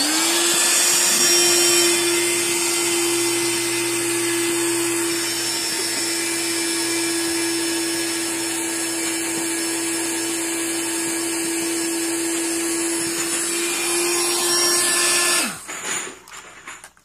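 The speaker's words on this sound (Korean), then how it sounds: "끼우고 선풍기만 키우면 됩니다." A small electric fan motor inflates a giant inflatable magic wand, giving a loud, steady whirring drone with a high tonal whine that lasts about fifteen seconds and then abruptly cuts off into rustling.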